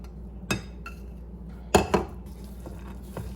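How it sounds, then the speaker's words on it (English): Raisins are tipped into a bowl of homemade vegan chocolate made with coconut milk, giving a few sharp clinks and knocks of utensil against bowl, separated by short pauses, close up and without talk. "now we're going to put some raisins in"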